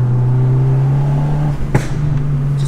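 A Fiat car's engine holds a steady, loud, close drone under throttle on a winding mountain road, with a sharp click and a brief dip in pitch midway before the hum returns, and no talking.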